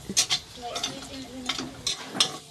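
Food being stirred and fried in a pan in a home kitchen, with a few scraping stirs and soft sizzling spread across the moment, moderately close with no talk.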